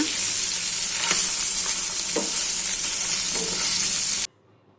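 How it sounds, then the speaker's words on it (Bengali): Fish pieces fry in a small amount of mustard oil with a steady, loud sizzle and a few scraping stir clicks, then cut off abruptly near the end. "অল্প পরিমাণে সরিষার তেল দুই পিস মাছ আমি লাল করে ভেজে নিব"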